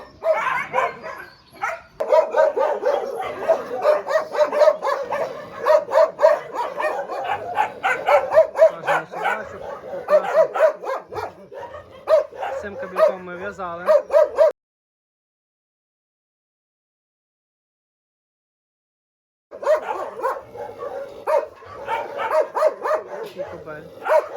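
A Laika hunting dog, a male, barks in quick, repeated bursts close by, with brief whimpers and yips, then a pause of silence before the barking resumes.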